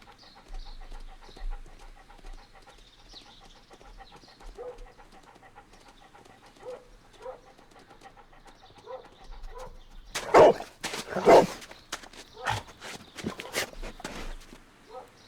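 Toby the dog in a Sherlock Holmes investigation game pants steadily alongside soft footsteps, then gives a few sharp, loud barks near the end, close and clear over a quiet background.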